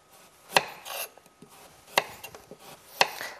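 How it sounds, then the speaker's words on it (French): Kitchen knife slicing a carrot on the bias against a cutting board, three crisp evenly spaced chops about a second apart with soft scraping between them, close and clear with no talking. "j'ai découpé la carotte en biais"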